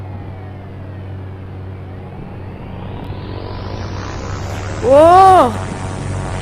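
A video-game airplane engine drones and rises steadily during a jail-escape game, with a brief voiced exclamation near the end.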